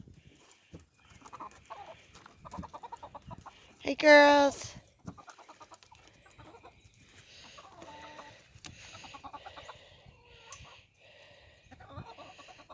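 Farmyard hens cluck softly around a person who calls out to them, with a rooster's loud, brief squawk rising sharply in the middle and scattered low clucking continuing afterward.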